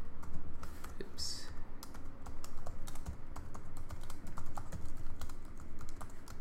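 Rapid clicking of a computer keyboard as someone types Java code into a text editor, a steady run of close, crisp keystrokes over a low background hum.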